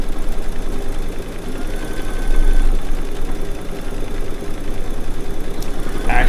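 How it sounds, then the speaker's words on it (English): Baby Lock longarm quilting machine stitching an edge-to-edge quilt, a steady low mechanical hum and rapid needle rumble running continuously at close range with no talk. "I actually have my hand on my quilt when I'm quilting on my long arm, just like I'm doing here right now."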